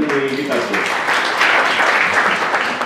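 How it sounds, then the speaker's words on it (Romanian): An audience applauds a speaker as he opens his talk, a sustained wash of clapping that swells midway, with a voice briefly heard over it at the start. "Vă rog să-mi dăm prima aplauze."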